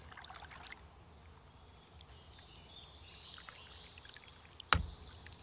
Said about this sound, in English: You can probably hear all the birds going crazy up in the trees right now.